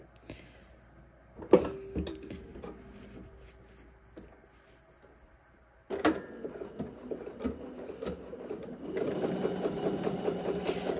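A sewing machine stitches a Cashmerette Canton garment in short bursts with clicks and pauses between them, then runs more steadily toward the end, close and fairly loud.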